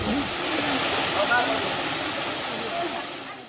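Rushing water from wintry cascades in Tanzania where woven traps catch crayfish, a steady broadband roar filling the whole clip at moderate level, with faint voice-like traces beneath.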